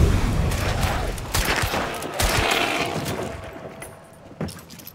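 Loud gunfire rattles in the Hunt: Showdown video game, with dense overlapping shots and bursts for most of the span before it thins out toward the end.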